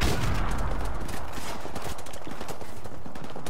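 Rapid bursts of gunfire in Call of Duty Modern Warfare Remastered, a dense, close, continuous rattle of shots that runs through the whole stretch.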